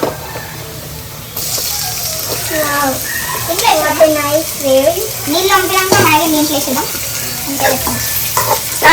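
Onions and tomatoes fry in a pan while being stirred, a steady sizzle running throughout and growing louder after the first second, with people talking over it.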